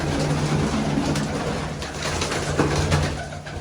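Pigeons coo softly and repeatedly, close by, over a steady noisy background.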